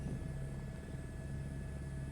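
A steady H125 helicopter drone in a flight simulator, low rotor thrum, constant and moderately loud, no voices over it.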